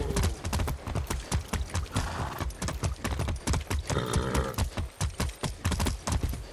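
Horse hooves clip-clopping in Far Cry 6 gameplay, a brisk, loud, regular run of hoofbeats close by, continuing steadily without pause.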